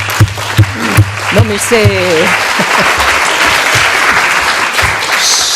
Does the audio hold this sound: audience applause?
yes